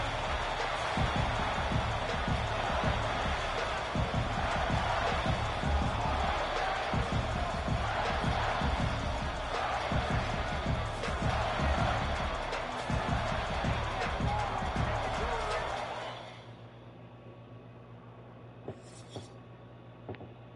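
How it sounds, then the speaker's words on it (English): A packed college football stadium crowd roars as a dense, steady wall of noise with rhythmic claps and stomps, then drops away sharply to near quiet, leaving a brief faint sound near the end. "this crowd bringing the energy and noise early."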